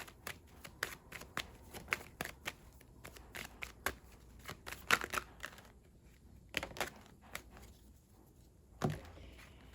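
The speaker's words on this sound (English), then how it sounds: "I'm just going to reshuffle real quick." A deck of tarot cards being reshuffled by hand, with a string of crisp, close riffling snaps in irregular bursts that are louder near the middle and end, against a quiet room, with no voices.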